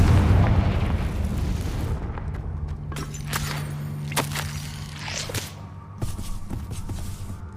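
A Confringo fire spell in Hogwarts Legacy bursts with a loud boom and whooshing crackle, followed by several sharp snapping impacts and lingering rumble.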